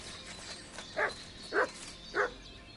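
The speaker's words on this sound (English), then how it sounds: "Good dog, Mutz. Show me." A dog barking in the video game Kingdom Come Deliverance 2: three short, evenly spaced barks at moderate distance over a soft ambient game background.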